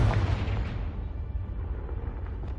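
A Confringo fire spell explodes in the Hogwarts Legacy video game, a deep rumbling boom with rolling low thuds and scattered crackles, moderately loud and sustained.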